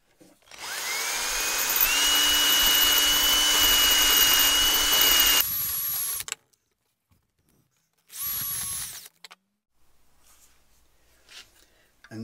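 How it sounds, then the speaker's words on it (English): A power drill spins a nail held against a file, a loud steady whine with rising pitch for about five seconds, then a second shorter burst after a pause, with faint handling noises. "Put it in my drill."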